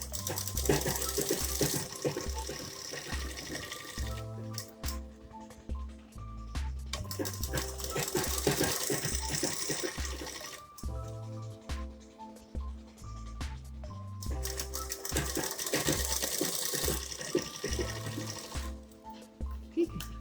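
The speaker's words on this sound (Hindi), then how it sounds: "ऐसे इस पे अच्छी सफाई से पूरे नेक पे इसी तरह से हम सिलाई लगा देंगे।" A sewing machine stitching around the neckline of a crop top, running in long steady whirring bursts with brief pauses between them, close and alone.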